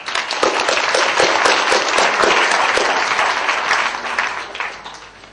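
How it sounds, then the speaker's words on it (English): A big round of applause from the audience at a business awards ceremony, loud and dense clapping that holds steady for several seconds before fading out near the end. "Let's give everybody a big round of applause."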